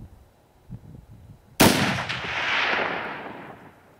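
A single loud AR rifle gunshot at a range cracks sharply after quiet, then a long rolling echo fades away.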